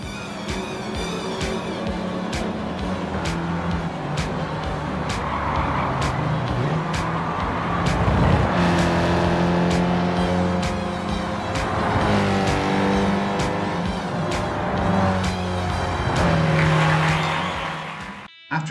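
Race cars in a Gran Turismo 7 replay roar past with rising and falling engine whine, gear shifts and brief tire squeal, loud and continuous as the pack sweeps through the course.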